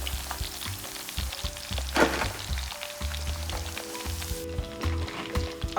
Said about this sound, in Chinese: 用大火来炸1到2分钟。